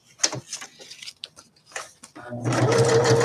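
After a few soft handling clicks and taps, a sewing machine starts stitching fabric for a craft project, running in a fast, steady, close whirring chatter to the end.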